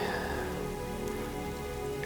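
Light rain patters steadily and close on leaves and surfaces in Iowa public-land timber, a continuous soft hiss without voices.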